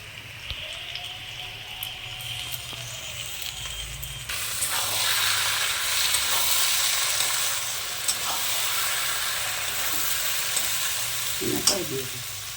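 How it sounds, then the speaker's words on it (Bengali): Potatoes fry in a pan with a soft, steady sizzle that suddenly swells louder as poppy seeds are tipped in, the crackle staying dense and close, with a faint clatter of stirring near the end. "এর মধ্যে আমি পোস্ত দিয়ে দিচ্ছি।"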